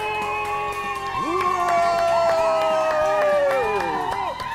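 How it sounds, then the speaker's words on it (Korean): A studio audience breaks into loud applause and cheering with whoops and shouts, greeting a guest on a Jeju food show, with a rising musical jingle playing underneath. "박수!"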